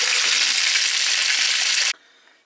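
Beef short ribs sizzle steadily in the fish grill drawer of a gas stove at home, a loud, dense hiss of fat frying that runs for nearly two seconds and then stops abruptly, leaving a faint quiet tail.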